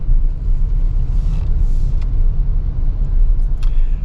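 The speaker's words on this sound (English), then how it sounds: "massive truck." A massive farm truck passes on a farmland road, heard from inside an SUV as a loud, steady low rumble with road noise and a few faint clicks.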